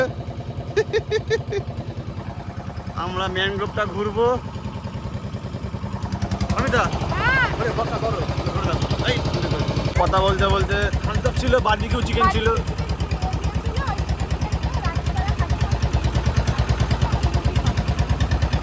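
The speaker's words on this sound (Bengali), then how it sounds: "ভটভটি আওয়াজে সাউন্ড দেওয়া যাবে না" A motorboat engine chugs steadily throughout a trip into mangrove forest, a continuous low putter under people talking.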